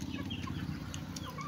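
Chickens cluck softly and steadily at close range, a continuous low murmur of hen sounds with a few brief higher calls mixed in.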